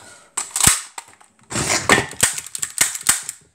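Sharp snapping shots from an airsoft gun, a single crack, then a short rapid full-automatic burst and a few more quick pops, close and fairly loud.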